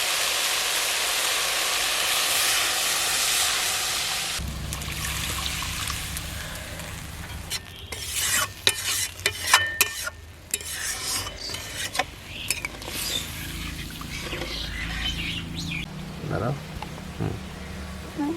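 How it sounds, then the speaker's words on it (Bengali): Water is poured into a fried spice paste in a pan: a bright rasping sizzle gives way to a low watery rush, followed by scattered clatters and bubbling as the liquid heats. "এবার আমি জল দিয়ে দেবো।"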